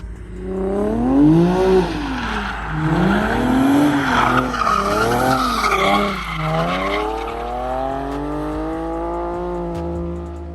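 A car drifting and sliding through donuts, its tires squealing in long, wavering howls that rise and fall over a steady engine drone, loud and continuous.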